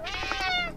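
Single short cat meow from the video game Slayaway Camp, a clear tonal mew lasting under a second, fairly quiet and heard alone.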